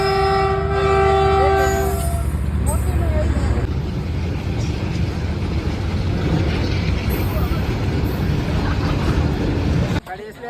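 At the Bhatia railway level crossing, a train sounds a loud, sustained horn blast, then rumbles past up close with a steady, heavy roll of wheels. Voices can be heard beneath the train noise.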